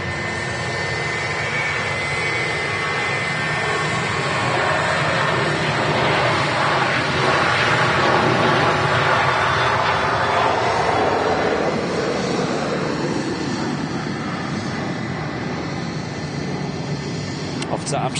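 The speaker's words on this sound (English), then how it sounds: "KLM in no rush to begin its takeoff roll there." A KLM airliner starts its takeoff roll at Manchester Airport, its jet engines building into a broad, steady roar that swells and then slowly fades as it moves away, with a commentator talking over it throughout.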